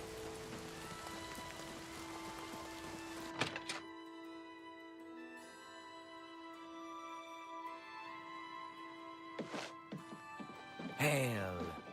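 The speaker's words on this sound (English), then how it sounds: "Hail." Hail pelting down in the video game Oblivion Remastered, a steady patter of icy drops over a low ambient hum with a few sharp thunks, while a person talks over it.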